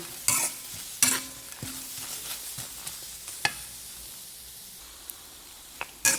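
Lemongrass, kaffir lime leaves, fresh chili and shallots stir-fried for Thai tom yum chicken: steady sizzling with repeated scraping and clinking of a spatula against the pan, close, no talk.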